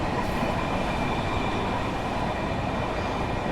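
A Metro-North M7A electric train runs on the Hudson Line in Train Simulator 2021, giving a steady, loud rumble of wheels on track with faint rail noise and no talking.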